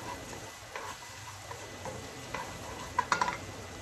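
Chili gets stirred in a cooking pan as part of making ginataang crabs, a soft sizzle underneath with faint scraping and a few light clinks of the utensil against the pan near the end.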